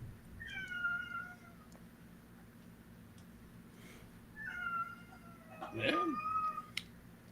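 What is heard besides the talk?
cat meowing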